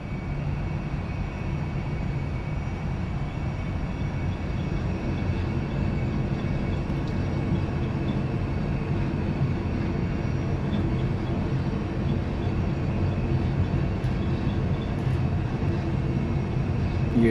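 Airbus A320 engines spooling during the takeoff roll in a flight simulator, a steady loud broadband roar with a constant hum, unbroken throughout.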